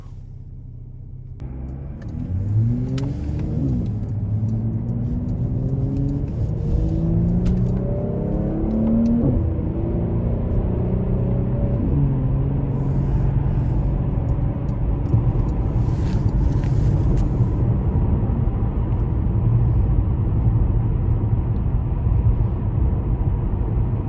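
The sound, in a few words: 2018 Porsche Panamera driving on road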